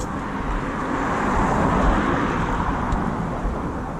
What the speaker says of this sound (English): And now the cars are everywhere.